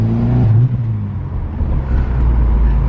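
A K20-swapped salvage Honda Civic engine roars loud and close, its low droning note shifting then settling into a steady, rough rumble as the car pulls, with no one talking.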